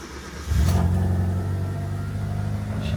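A Proton Satria GTi fitted with a coil-on-plug conversion cranks briefly and catches, then settles into a steady close idle that stays loud and even, with no talk over it.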